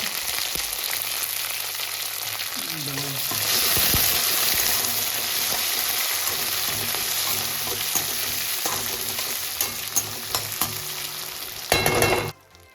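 Curry leaves hit hot oil for a thick mutton curry with crushed spices, giving a steady loud frying sizzle with crackles throughout and a sharper burst of spatter near the end; no speech.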